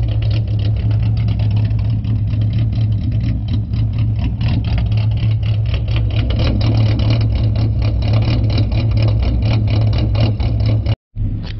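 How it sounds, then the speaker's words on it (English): A V6 Ford Mustang with an idle chop mod idles nearby with a loud, steady low rumble and rhythmic lopey pulsing, cutting out briefly near the end before resuming. "Let's go ahead and check the idle speed here, see if it's warmed up enough."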